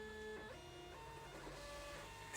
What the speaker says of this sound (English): And we print out the label.